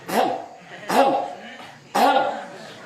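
Three forceful throat clearings, evenly spaced about a second apart, close and fairly loud, with a short rasp after each one.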